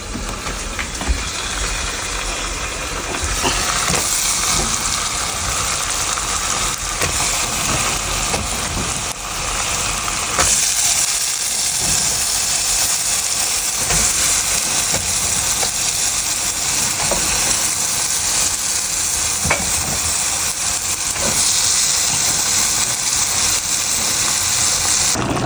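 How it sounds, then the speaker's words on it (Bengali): Pumpkin and potato pieces fry in a pan beside seasoned meat in a home kitchen, giving a steady, dense sizzle that runs loud and unbroken throughout with no talking. "এই যে এখানে কদু আর আলু ভাজি হচ্ছে"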